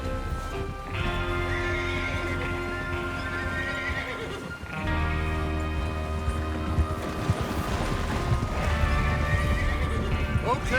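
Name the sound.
horses neighing and galloping in Red Dead Redemption 2 video game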